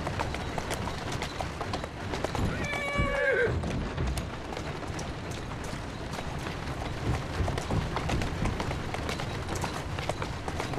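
A horse in Assassin's Creed Syndicate lets out a loud descending whinny early on, then gallops in a continuous rapid clatter of hooves that runs steadily throughout at close range.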